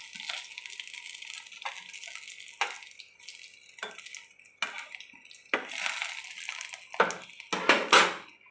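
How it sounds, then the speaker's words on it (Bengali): Pieces of pointed gourd sizzle in hot oil in a pan while a utensil scrapes, clinks and lifts them out, giving a series of sharp metallic knocks and scrapes between bursts of frying hiss. "তো দেখো সবগুলো আমার ভাজা হয়ে গেছে, আমি ভেজে উঠিয়ে তোমাদের তুলে দেখাচ্ছি"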